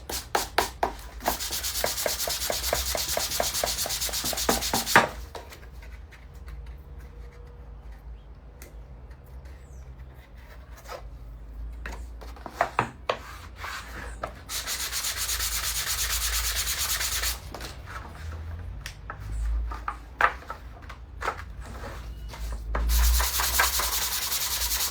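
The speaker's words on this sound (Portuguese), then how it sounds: "essa minha lixa aqui já está acabadona" Worn-out sandpaper rubs back and forth over MDF in rhythmic scratchy strokes, coming in several bursts of a few seconds each, separated by quieter pauses with light taps.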